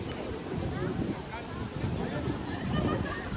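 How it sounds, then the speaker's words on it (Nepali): Steady wind buffeting the microphone on a rainy, overcast day, a low rumbling roar throughout with voices talking faintly underneath. "हावा पनि चलिरहेछ।"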